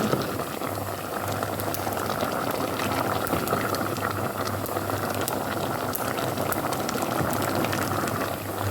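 Green pumpkin pieces bubble vigorously in a pot of boiling water, a dense, continuous rolling boil heard close and alone for several seconds.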